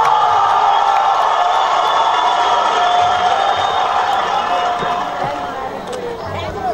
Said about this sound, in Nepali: ताली बजाइदिनु होला सम्मानको निम्ति